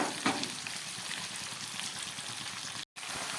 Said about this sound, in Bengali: বাকি মাছগুলো একবারে দিয়ে দিলাম খুব ভালো করে ভেজে নিচ্ছি